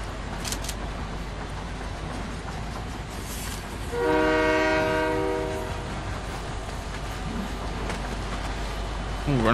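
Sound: train horn in Fortnite video game

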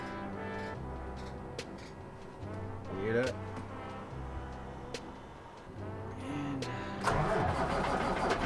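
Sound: truck engine starting up

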